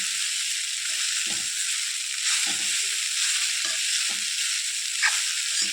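Poha flakes fry in hot oil with a constant loud hiss and sizzle, while a spoon stirring through them adds soft scraping pulses at irregular intervals.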